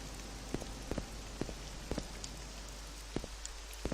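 Rain falling in the video game Morrowind, a steady, soft hiss of rainfall with scattered close drops and taps landing at irregular intervals, no talking over it.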